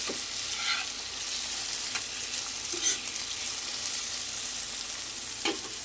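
Potato fry with green chilli sizzles steadily in a pan, with occasional soft spoon scrapes and light taps as it is stirred, close and continuous with no talking.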